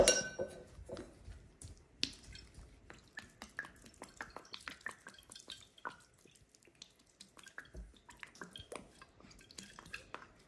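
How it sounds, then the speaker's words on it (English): Fish sauce drips and trickles into a bowl of marinade for Vietnamese grilled pork belly, with scattered light drips and small clinks of a bowl close by in a quiet kitchen. "I'm gonna add the fish sauce"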